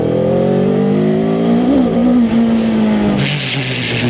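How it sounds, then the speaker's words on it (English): A Cyclone RC600 motorcycle's parallel-twin engine revs up close by, its loud droning note climbing and wavering in pitch before settling, then easing off near the end. "you cannot rev it up a lot, but still not bad for a parallel twin"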